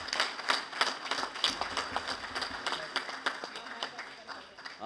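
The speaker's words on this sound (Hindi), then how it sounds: "तो मैं कहूँगा इन सब के लिए एक पुरजोर तालियां।" Convention audience in a hall applauds steadily, a dense wash of many hands clapping that continues evenly and tapers slightly, with some voices mixed in.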